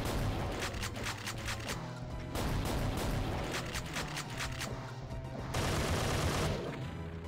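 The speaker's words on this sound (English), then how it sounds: "this is not really the optimal range for the super shotgun" The super shotgun fires repeatedly in GZDoom, a Doom video game, with a Hellbound map, amid loud, dense gunfire and booms that run without pause, with several sharp blasts standing out over the steady din of battle.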